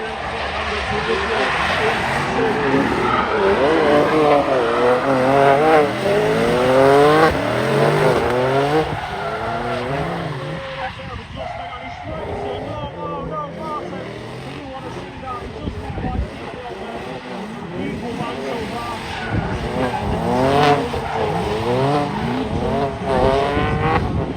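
Drift cars race on a track, led by a BMW E90, with engines rising and falling in sweeping pitches and tires squealing through slides. The loud, continuous action runs under commentary.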